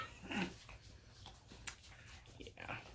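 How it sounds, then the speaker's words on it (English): A dog whimpers and gives short yips and barks indoors, close and restless, with a person talking over it. "So if you hear a sudden bark, it is Scarlett."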